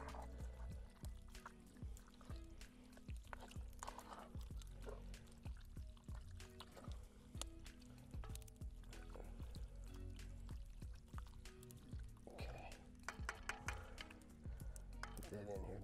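Dry pasta shells pour into a cast-iron Dutch oven of simmering beef goulash, a rattling rush of small hard pieces tumbling in over the bubbling stew.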